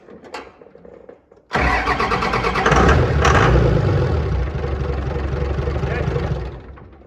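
A 24-valve Cummins diesel with a P pump cranks briefly, then fires up with a sudden loud roar and settles into a steady, heavy rumbling idle close by, with faint voices before it starts.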